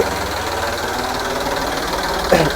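A tractor engine runs steadily nearby, a low rhythmic knocking idle with a mechanical clatter, and a brief louder burst near the end.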